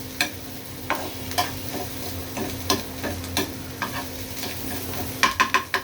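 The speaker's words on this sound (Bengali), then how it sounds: "চুলার উপরে আমি কিছু পেঁয়াজ হালকা বেরেস্তা করে নিব।" Onions lightly frying on a stovetop burner, a constant sizzle broken by regular spatula clicks and scrapes, with a quick burst of taps near the end and no speech.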